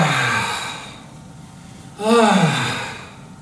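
Slow, deliberate breaths during a tai chi movement: a long exhale fades out, then after a pause a strong, audible breath swells and tapers off, close to the microphone.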